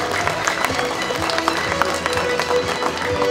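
Applause from an audience at a student awards ceremony, with a dense patter of clapping that holds steady for a few seconds and is joined by faint crowd noise.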